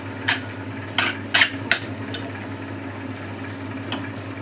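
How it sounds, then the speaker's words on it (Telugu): A spoon stirs gongura dal in a pot in a home kitchen, a few distinct scraping clinks against the metal over a steady low background hum, no talking. "ఒకసారి అలా కలిపి మరొక మారు మూత పెట్టేసి అలా వదిలేసామంటే అది కూడా మెత్తగా అయిపోతుంది"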